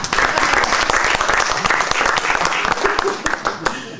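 Audience at a San Francisco talk breaking into applause, a dense continuous patter of many hands clapping, loud and sustained, with some voices underneath.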